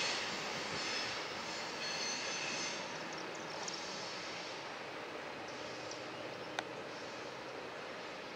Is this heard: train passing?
yes